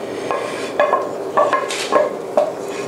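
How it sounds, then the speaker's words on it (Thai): Boiled pasta is tossed and stirred in a pot with a creamy sauce and fermented pork, giving close wet scrapes and soft utensil clinks against the pot in an uneven rhythm, with no voices. "ปิดไฟครับแล้วก็คลุกเคล้าให้เข้ากัน"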